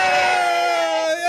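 Party crowd cheering and calling out greetings, a loud sustained wash of excited voices with whoops and shouts, close and continuous throughout.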